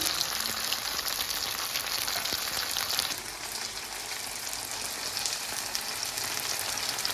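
Chicken pieces fry in a pan for teriyaki chicken, giving a close, steady sizzle and crackle that shifts slightly in tone about halfway through, with no talking.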